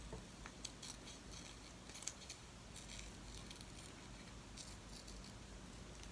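Scissors snip a shape from a magazine page for a collage, a few quiet crisp cuts and rustles, close but faint over low background noise, with no talking.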